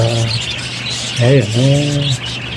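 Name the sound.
pet bird squawking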